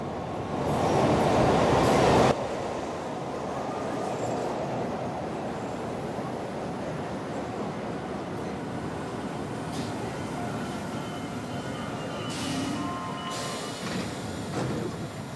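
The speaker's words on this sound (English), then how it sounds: "I always take the subway." A subway train rides along the rails with a loud, steady rumble and roar, an early burst of louder rattling, then continuous wheel noise and faint squeals close by throughout.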